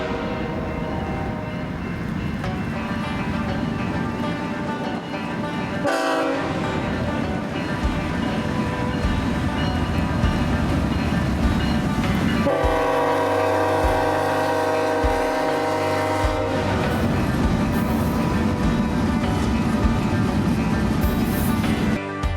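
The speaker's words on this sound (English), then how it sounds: "a BNSF grain train spawned out of nowhere" A BNSF grain train led by a GE GEVO locomotive passes, its steady rolling rumble running throughout, with a tonal horn-like blast standing out around the middle and a second sustained tone later, moderately loud and without talk.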